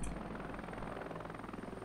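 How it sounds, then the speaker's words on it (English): Attack helicopter in the combat game Heliborne, its rotor and engine droning in a steady, loud pulsing thrum that fills the whole stretch without a break. "We've got an attack helicopter with us, so he should do a decent amount to all this."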